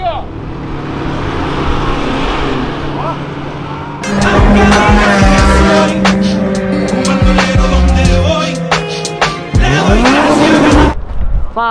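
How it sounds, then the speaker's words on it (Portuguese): Cars race at the Interlagos drag event, with a quiet idle giving way to a loud burst of revving engines and squealing tires close by, ending with a sharp rising engine whine, while people talk. "a gente veio gravar alguns carros correndo"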